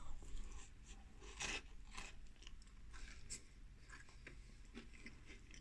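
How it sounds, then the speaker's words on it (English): Crunchy chewing close to the mouth of a dry chocolate sponge pudding, with repeated crisp bites and grinding, one louder crunch standing out partway through, no talking. "Cake should not crunch."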